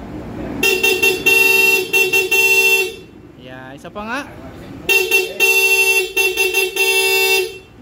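A Honda ADV 160 scooter's horn honks in two bursts of repeated sharp toots, loud and close, first the stock horn and then an aftermarket Corsa horn, with a brief spoken remark between them.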